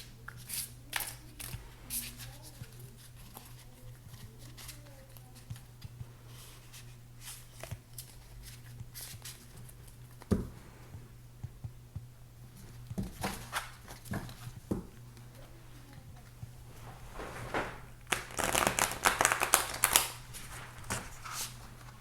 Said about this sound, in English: look how much better these shuffle.